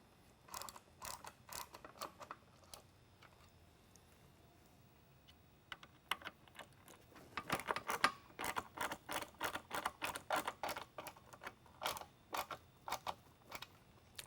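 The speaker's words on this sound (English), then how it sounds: "we'll retighten the mount screws." Mount screws are retightened on a Mini Liberty lightbar: irregular small mechanical clicks and ratchet-like ticks, sparse at first and then dense rapid runs, quiet and close with no talking.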